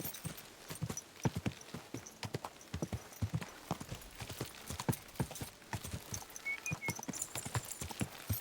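Steady clip-clop of horse hooves trotting at a brisk rhythm in the video game Kingdom Come: Deliverance 2, close by, with a brief whinny near the end over faint ambient background.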